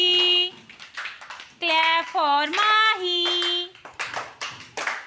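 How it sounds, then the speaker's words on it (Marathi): Children in a classroom clap for a classmate. Voices call out and speak first, and a quick burst of small hands clapping follows. "very good clap for Mahi"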